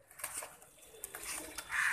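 About 17 crossbred pigeons in a cage cooing softly, with scattered faint calls and light rustling and clattering close by.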